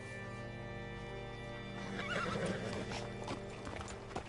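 Horse hooves clip-clop steadily under a continuous low hum, with a whinny rising partway through, fairly close and moderately loud, in the video game Red Dead Redemption 2.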